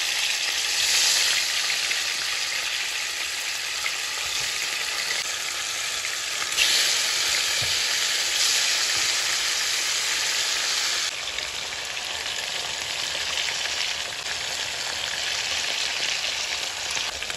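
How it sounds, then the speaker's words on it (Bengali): Fish frying in a frying pan gives a steady, dense sizzle and crackle that holds evenly for the whole stretch, close and continuous, with no voices. "আমি মাছ ভাজিটা দিয়ে দিচ্ছি এক এক করে সব কিছু"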